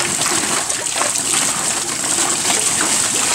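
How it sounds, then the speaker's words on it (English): A water wheel on a farm in Vietnam turns and churns, with continuous, loud splashing and sloshing water that stays close and steady throughout. "Water wheel."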